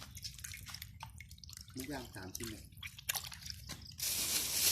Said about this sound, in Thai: ล้างหมูให้สะอาด เพื่อสุขอนามัยที่ดี